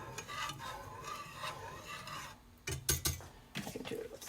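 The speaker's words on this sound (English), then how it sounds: "then reduce back to a low simmer and continue to stir" A spoon scrapes and rubs through thick vegan pumpkin pudding mixture in a pot at a low simmer, a close, gritty rasping of stirring strokes that pauses briefly and then resumes in short bursts.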